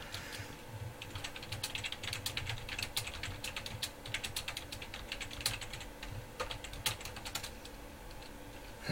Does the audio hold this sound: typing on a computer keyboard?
yes